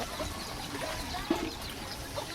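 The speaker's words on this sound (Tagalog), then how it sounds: "Mga manok po." Chickens cluck softly amid a busy outdoor farmyard hum, with a few short, scattered clucks standing out over background noise.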